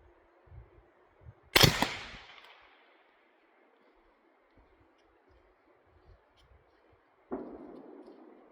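A single loud, sharp gunshot from a handgun firing Black Powder XTP +P rounds at a target 15 feet away, with a ringing decay, followed later by a second softer blast, against faint background hiss and occasional low thumps.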